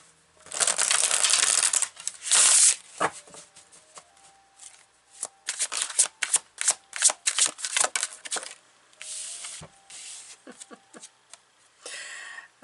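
Morgan Tarot cards being shuffled in loud close bursts of riffling and flapping, with rapid card slaps and softer shuffling clusters separated by short pauses.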